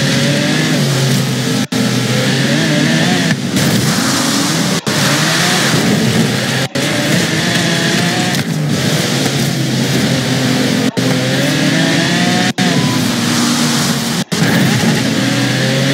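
A car engine revs continuously in a driving video game, a loud, dense, steady roar with rising and falling pitch sweeps, broken by brief sharp cuts every couple of seconds.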